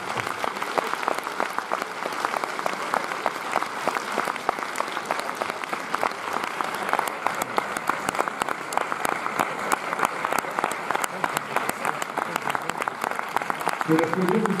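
An audience at a Paris premiere screening of Midnight Special applauds director Jeff Nichols, a dense, sustained roar of clapping from a full room, staying loud and steady, with a voice faintly beneath it toward the end.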